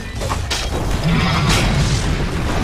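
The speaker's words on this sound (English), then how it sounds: "Dire's top tower has fallen" A tower collapses in Dota 2 with a loud, sustained booming crash and rumble lasting nearly three seconds, with no talking over it.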